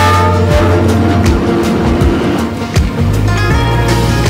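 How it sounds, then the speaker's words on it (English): A loud, close rumble of a train rolling past in Hanoi, Vietnam, with low droning tones and clattering noise throughout. "the train's coming"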